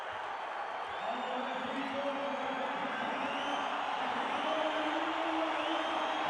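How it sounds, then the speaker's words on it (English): A large basketball arena crowd in Montevideo during a Uruguay v Puerto Rico FIBA World Cup qualifier gives off a sustained roar, with steady cheering and whistle-like cries held at an even, distant level and a voice talking over it. "Listen to the crowd."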